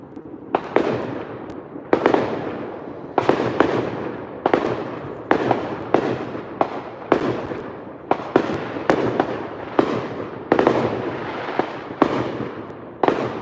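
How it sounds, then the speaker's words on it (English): Fourth of July fireworks bursting behind trees, a steady run of sharp booms and crackling explosions about once a second, fairly close and loud, with no voices over them. "I can see a little tiny bit of the fireworks that you're currently hearing"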